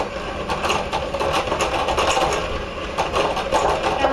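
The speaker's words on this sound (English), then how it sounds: "you can use your stand-up or your hand mixer, as I am, and just cream the shortening with the butter together on" An electric hand mixer creaming shortening and butter together on high speed for snickerdoodle cookie dough, giving a steady close whirring buzz with a slight rhythmic pulse, heard alone throughout.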